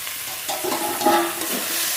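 Fish curry masala with fried potatoes being stirred in a hot pan, a soft scraping and sizzling close by, steady with small uneven pulses of movement.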